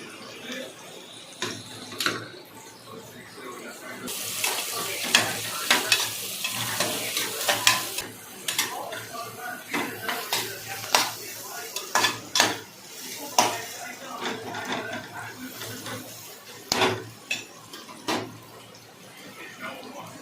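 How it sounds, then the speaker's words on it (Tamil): Onions sizzle in a hot kadai as a utensil stirs and scrapes against metal, with intermittent clinks close by. "ஆனியனை நல்லா வதக்கணும்."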